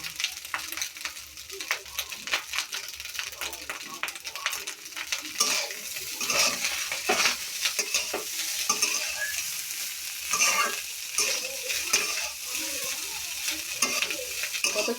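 Egg fried rice with tomato sauce being stirred and fried in a village kitchen, a steady close sizzle with continual scraping stirs of a utensil in the pan, no voices.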